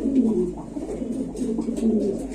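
Pigeons coo steadily at a pigeon market, low throaty calls overlapping in a continuous murmur from several birds close by, with faint crowd noise behind.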